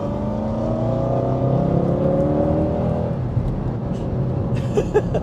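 A Mercedes C63 AMG V8 accelerates hard, its engine note rising and sweeping upward in a loud, continuous roar with raw straight-line power.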